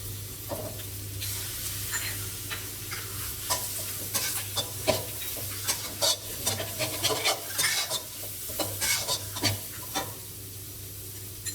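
Dry seasonings and soy sauce are stirred into Pad Mama tom yum goong instant noodles in a pan, giving a steady scraping and clinking of a utensil against the pan over a low sizzle, with close, irregular taps throughout.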